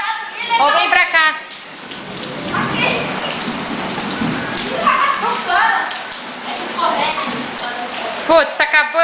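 Rain pattering steadily onto a swimming pool and its surroundings, a continuous hiss of drops throughout, with people talking over it.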